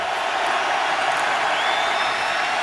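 A football stadium crowd at a Steelers home game against the Chiefs roars continuously on a third-and-long play, a dense, loud wash of cheering and noise with no pauses.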